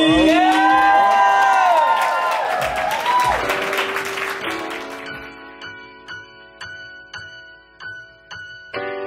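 Crowd cheers and applauds at a hip hop show, a loud burst of whooping that fades as rhythmic ticking beats take over.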